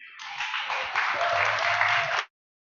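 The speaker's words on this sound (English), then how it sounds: "make sure y'all giving them a round of applause" Audience applause for panelists at a consent decree panel discussion, a steady wash of clapping that swells slightly and then stops abruptly after about two seconds, followed by silence.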